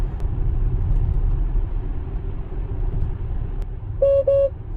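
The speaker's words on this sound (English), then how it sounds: "that's loud beeps" Two loud electronic warning beeps from a Tesla Model X chime in quick succession near the end, rising sharply above a steady low cabin and road rumble.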